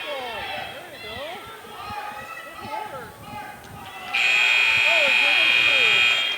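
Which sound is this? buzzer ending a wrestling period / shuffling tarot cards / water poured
buzzer ending a wrestling period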